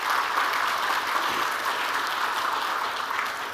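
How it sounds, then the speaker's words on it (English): An audience claps steadily for a chief guest at a formal event, a dense and even round of applause lasting throughout. "Let us have a big round of applause for our chief guest."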